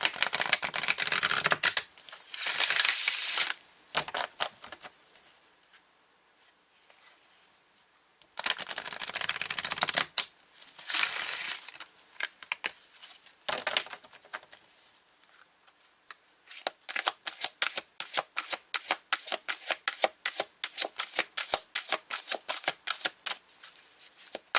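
Power to Surrender oracle cards are shuffled up close in repeated bursts: long riffling washes, quiet pauses, then a fast run of crisp card flicks.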